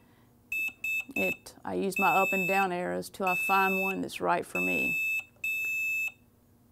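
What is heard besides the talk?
beep tones of George Knight DK3 mug press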